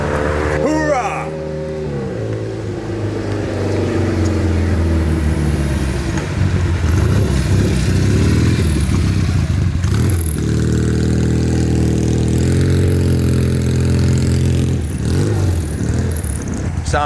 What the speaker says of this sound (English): That's one sexy sounding bike right there.